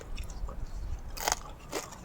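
Crunchy snakehead fish from the Moei River, eaten with chili dip, being bitten and chewed close up: two sharp crunching bites stand out over soft mouth noise, with no talking.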